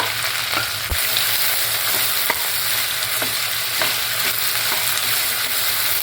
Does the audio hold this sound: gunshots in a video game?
no